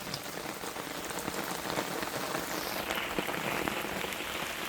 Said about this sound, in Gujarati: વરસાદ બહુ ચાલુ છે.